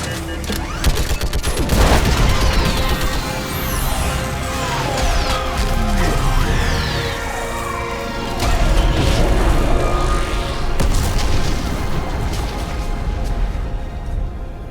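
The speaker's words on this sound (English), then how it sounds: "I need an orbital strike. Clear! Fire at will!" Orbital strike explosions in the Mass Effect 3 video game roar as a dense, loud barrage of blasts and crashes that rumbles continuously for the full stretch, with brief voices now and then underneath.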